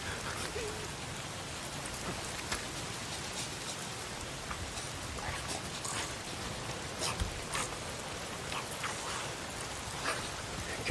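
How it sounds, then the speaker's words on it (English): Steady rain pours down in the open-world game Days Gone, a dense continuous hiss of drops on surfaces with a few faint distant rumbles, alone and without talk. "It's the goddamn rain. Why is it always raining?"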